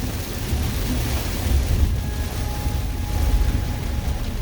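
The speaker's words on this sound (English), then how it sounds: "Oh, there is so much water coming off that hillside." Loud, continuous roar of floodwater rushing down a hillside in a storm, broad and turbulent, churning steadily without pause and no voices.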